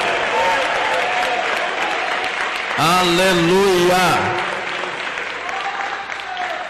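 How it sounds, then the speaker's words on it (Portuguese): A church congregation applauds steadily throughout, with a loud sung or shouted voice rising over the clapping midway and other voices calling out around it. "eu quero ouvir palmas misturado com glória a Deus"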